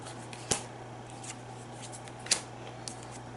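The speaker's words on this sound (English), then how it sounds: "Let Al-Haraz draw his cards." Cards are drawn during a Pathfinder tabletop session: two distinct, crisp snaps of card stock about two seconds apart, close and fairly quiet over a soft room hiss, with no talking.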